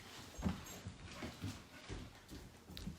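A dog whimpers in short, soft whines at close range in an indoor room, repeated a few times over low background noise.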